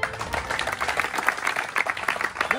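An audience at a defence academy gathering claps together in a steady patter of many hands, moderately loud and continuous, with faint voices underneath.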